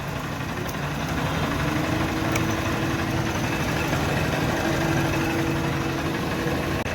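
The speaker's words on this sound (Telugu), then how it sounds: "ఫ్రెండ్స్, బైక్ అయితే స్టార్ట్ అయిపోయింది" A Honda Unicorn BS6 motorcycle with a regulator problem idles steadily just after being started with booster wires, a continuous close engine rumble with a low, even hum and no talk over it.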